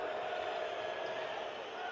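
Steady crowd noise from a live Alabama vs. Michigan basketball game fills the arena continuously at a constant level, a broad murmur with no distinct cheers or peaks.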